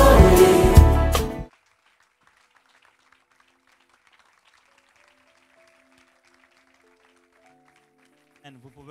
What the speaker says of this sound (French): sous vos acclamations, veuillez accueillir chaleureusement le Dr Adams Mbouma.